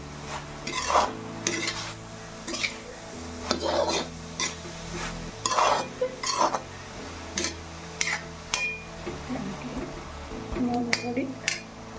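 Banana stem stir-fry being stirred in a pan, repeated scraping and clinking strokes of a spoon against metal with a faint sizzle underneath, close and moderately loud in uneven bursts.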